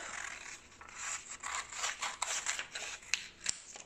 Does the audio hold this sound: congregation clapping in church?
no